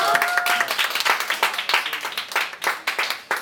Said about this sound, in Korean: 박수 마지막으로 한번더 드릴게요